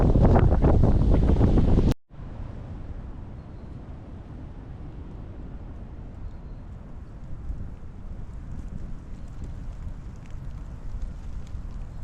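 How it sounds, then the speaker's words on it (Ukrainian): Loud spring wind in the woods buffeting the microphone, a steady low roar that runs on for several seconds after a brief louder burst at the start. "Але вітер такий, що це капець."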